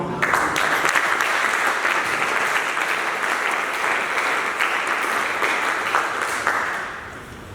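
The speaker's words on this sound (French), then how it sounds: "Mesdames et messieurs, voudrions-nous applaudir nos vaillants candidats." An audience applauds the candidates at a regional final of a French eloquence contest, sustained dense clapping that holds steady and then fades toward the end.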